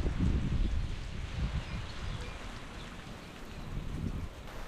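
Soft, steady rain falls outdoors by a lake with a low rumbling wash and faint patter, no voices, continuous throughout.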